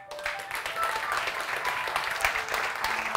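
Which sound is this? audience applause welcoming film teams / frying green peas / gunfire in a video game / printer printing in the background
audience applause welcoming film teams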